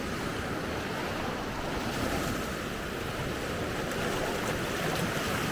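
Ocean surf washing steadily onto a beach at Hergla, a constant broad roar of breaking waves with some wind buffeting the microphone, no voices.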